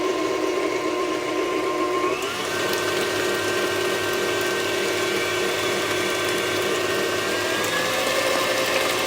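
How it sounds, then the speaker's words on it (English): An electric mixer whirs steadily while creaming cheesecake batter with sour cream, a continuous close-up mechanical drone that holds level throughout with no talking. "we're going to mix this up nice and creamy."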